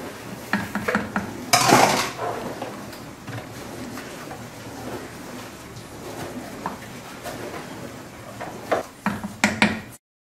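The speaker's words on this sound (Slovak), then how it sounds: "Stále to miešame pomaly." A utensil stirs thick plum jam in a pot, producing a loud scraping clatter early on and bursts of clinks and knocks later, while birds call faintly in the background.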